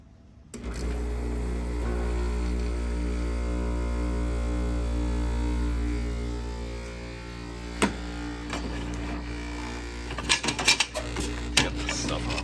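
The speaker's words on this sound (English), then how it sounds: "I have it on low, so you're just gonna hear the compressor." An apartment air conditioner runs on its low setting with the compressor humming steadily and loudly, a deep constant drone with a few light clicks and rattles toward the end.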